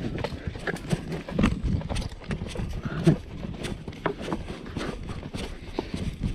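Hooves clip-clop at a steady walking pace on the ground, close by, with faint rustling and background noise.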